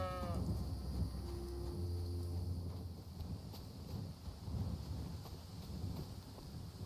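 A single short sheep bleat in the video game Kingdom Come: Deliverance II sounds at the very start, followed by a faint low tone and a steady rumbling background.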